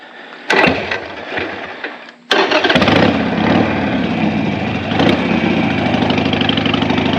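A 2006 Harley-Davidson Sportster with a pumper carburetor cranks and catches, its engine firing up loudly and settling into a steady, close idle after a brief stumble, with no talking.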